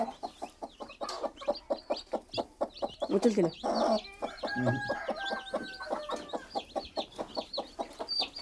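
A country hen with newly hatched chicks clucks in a steady rhythmic series of close, low clucks while the chicks peep thinly and repeatedly on top, with a voice briefly speaking.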